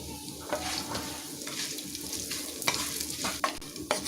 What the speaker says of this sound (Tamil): நல்லா வறுபட்டுருச்சு.